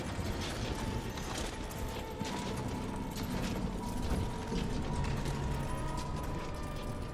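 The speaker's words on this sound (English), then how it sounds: "If this plays, the machine is recharging the magnetic coil." Machine in Dishonored 2 recharging its magnetic coil, a continuous dense mechanical whirring and ratcheting with faint tonal hums throughout, steady and moderately loud.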